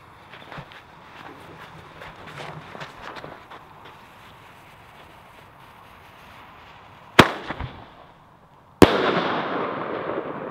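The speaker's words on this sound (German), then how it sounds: "Ja, das ist der Flashbang. Der ist natürlich dann um einiges noch lauter." A Nico Flashbang firecracker bomb tube (BKS Bombenrohr) detonates in two sharp, very loud bangs about a second and a half apart. The second blast trails into a dense crackling hiss after quieter low rustling.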